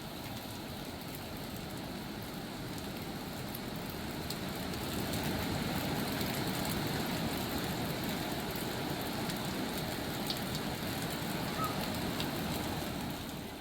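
Heavy monsoon rain pours steadily in a flooded area near a submerged footbridge, a dense, continuous broadband hiss that swells slightly louder midway and carries on without pause or voices.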